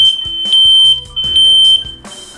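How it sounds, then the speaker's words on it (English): Interconnected smoke alarms sounding in an apartment complex, loud shrill electronic beeps pulsing in short bursts with a second alarm audible in the common hallway, no talking. "everybody will know that there is an alarm going off in this side of the apartment complex"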